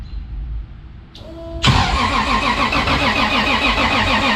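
A Toyota Supra engine cranking briefly and then firing up, catching into a loud, steady, close idle that holds with a slight rhythmic pulse and no talk over it.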